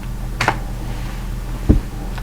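A few separate keystrokes tap out on a computer keyboard in a quiet room, sparse and soft, with one firmer press near the end.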